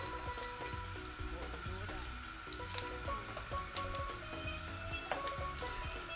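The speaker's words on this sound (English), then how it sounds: "so we're gonna saute that for about 2 to 3 minutes" Crab curry ingredients sauté in a pan over medium heat, a soft continuous sizzle with light stirring scrapes, set against faint background tones and room noise.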